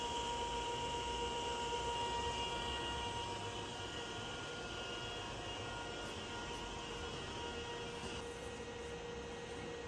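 A Kao Ming KMR-1250 DH radial arm drill from Taiwan, 60 mm capacity, runs its spindle at maximum feed rate, giving a steady, faint mechanical whir and hiss with constant tonal whine throughout.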